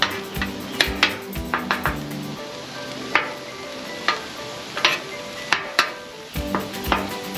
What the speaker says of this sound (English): Let the meat finish browning.